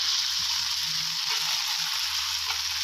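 Marinated pork tenderloin, coated with egg and a little oil, frying in a pan, giving a steady bright sizzle with a few soft stirring knocks, close and continuous.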